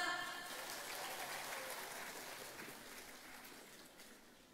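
Applause from a concert audience for a singer, a dense wash of clapping that fades gradually, no voices over it.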